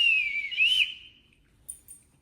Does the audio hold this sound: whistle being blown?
yes